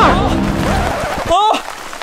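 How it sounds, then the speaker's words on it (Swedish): Water splashed over a sleeping person beside a pool makes a dense rain-like hiss of spray for about a second, followed by a brief startled vocal cry. "Det regnar!"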